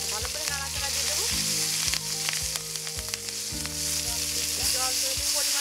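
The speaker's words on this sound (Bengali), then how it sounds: "এবার ভালো করে নাড়াচাড়া দিয়ে দেবো," Spices and green chilies sizzle steadily in hot oil for a red taro curry while a utensil stirs them, producing repeated knocks and scrapes against the pan.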